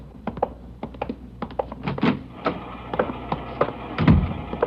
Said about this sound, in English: She's running all the cards on previous shooting through the IBM machine.